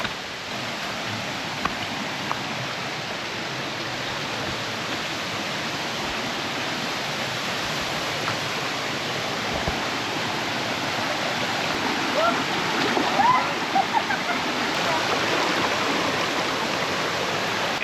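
A jungle waterfall gives off a steady, dense rushing roar that holds evenly throughout, with a voice speaking briefly over it.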